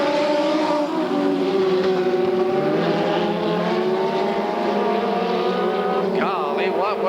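Sprint car engines roar around a race track, a loud, sustained droning exhaust note holding steady with a higher engine whine sweeping in near the end, and an announcer talking over it.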